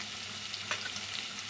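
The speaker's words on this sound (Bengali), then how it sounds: "এবার পেঁয়াজ আর আলুটাকে ভালো করে ভেজে নেব।" Onion and potato pieces fry in hot oil, giving a steady, close sizzle with no talking and a slight swell partway through.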